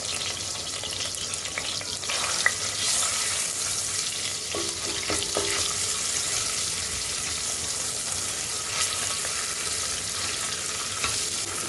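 Steady sizzling of garlic and tomato paste frying in a pan, continuous and close, with a few light clinks and stirring scrapes.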